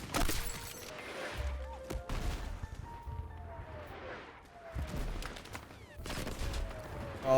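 Mortar fire in a video game played on a Steam Deck sounds as repeated loud booming blasts and crashes with whistling descents between them, a busy barrage that stays close and continuous throughout.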